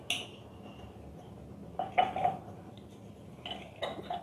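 Grapes with rock salt being stirred in a bowl, a few soft clinks and scraping clatters in short bursts, close and fairly quiet.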